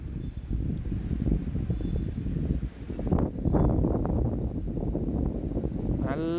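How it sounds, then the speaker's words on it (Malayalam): Strong wind buffets the microphone on a highway bridge on NH66 in Kasaragod, a steady loud roaring rumble that continues throughout. "നല്ല കാറ്റുണ്ട്."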